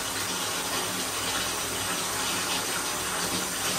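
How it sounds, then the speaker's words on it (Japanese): A hotel shower runs steadily at close range, a dense, unbroken hiss of spraying water with no pauses and no voices. "今日はシャワー浴びて今から寝ます。"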